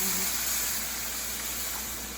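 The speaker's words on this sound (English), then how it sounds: "It's going to sizzle now." Water poured over browned flour in a hot pan gives off a steady, broad sizzling hiss that fades slightly over two seconds, close and fairly quiet with no speech.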